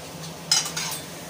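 Paneer bhurji with onion, tomato and spices being stirred in a pan, a metal spoon scraping and clinking in a few short strokes over a faint low hum.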